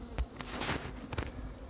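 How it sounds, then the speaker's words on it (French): Honeybee swarm buzzing restlessly around a hive during hiving, a dense steady hum with a few louder passes of bees flying close by, no voices. "Il y a beaucoup trop d'effervescence, je pense que c'est un essaim qui risque de partir"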